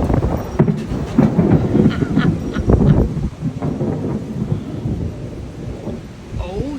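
Thunder rolls and rumbles through an Oklahoma storm, loud and building for a few seconds and then fading, with rain hissing steadily underneath.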